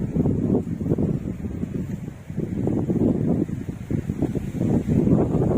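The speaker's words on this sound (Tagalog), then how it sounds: "Ang lakas ng hangin dito, grabe." Steady, roaring wind buffets the microphone beside a Thule rooftop tent on a vehicle, with gusty surges and low rumbling noise and no voices.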